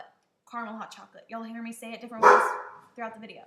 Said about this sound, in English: That was my dog that just barked.